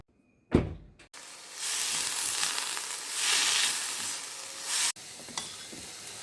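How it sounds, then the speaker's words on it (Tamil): Mustard seeds and dried chillies sizzle as they temper in hot oil with cabbage, a steady, fairly loud frying hiss lasting several seconds, preceded by a sharp knock and followed by a brief clatter. "கடுகு காஞ்ச மிளகா போட்டு தாளிச்சிட்டு கொஞ்சம் உளுத்த பருப்பு கடல் பருப்பு போட்டிருக்கேன்"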